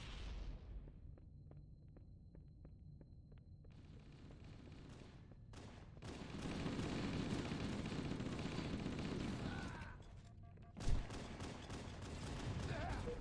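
Gunfire and a grenade blast in the shooter game Halo: Combat Evolved, with bursts of rapid shots, a dense stretch of loud firing and one sharp explosive thump near the end, while players talk over the action.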